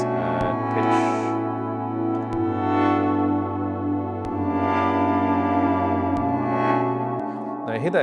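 A synthesized sound with a pitch effect added, sustained tones shifting over several seconds with sharp transient clicks at note starts, reverberant and steady in level.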